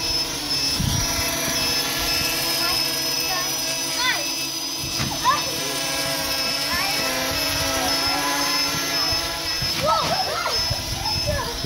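A quadcopter drone with a Naze32 flight controller spins up its motors, a loud close whine with shifting pitch over a steady hum, while a person talks and a dog barks and whimpers nearby.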